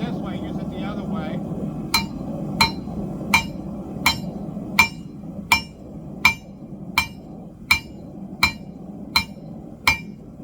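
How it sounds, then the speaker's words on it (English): A blacksmith draws out metal with a hammer, about a dozen sharp, ringing strikes landing at a steady, even rhythm over a low background rumble. "Going a different route on the hammer."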